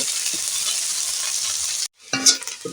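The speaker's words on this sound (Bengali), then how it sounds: "এবার দিয়ে দেবো এতে পেঁয়াজ কুচোনা পেঁয়াজ কুচনাটা তুমি ভালো করে ভেজে নেব" Chopped onion frying in a pan sends up a loud, steady sizzle with occasional stirring scrapes. It cuts out briefly, then resumes with clatters of stirring.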